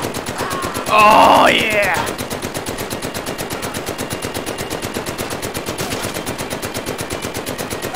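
Machine gun in the Medal of Honor: Above & Beyond VR game firing a long unbroken rapid burst of evenly spaced shots, loud and close, after a brief spoken line at the start.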